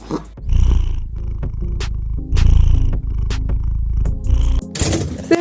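A cat purrs close to the microphone in a steady rhythmic rumble, swelling with each breath, with a faint meow-like sound near the end.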